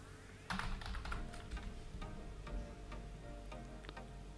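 Someone types steadily on a nearby computer keyboard, a continuous run of clicks over a low background hum, with no voices.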